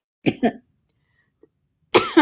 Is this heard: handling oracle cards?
no